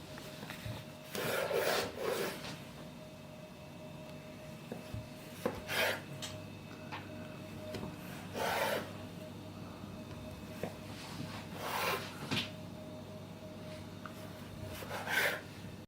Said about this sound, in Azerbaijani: İndi bıçaqla kəsirik.